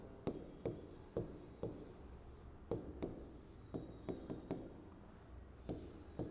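Chalk writing out a physics equation on a classroom board, a run of sharp taps and short scratchy strokes in an uneven rhythm, close and fairly quiet, with no voices.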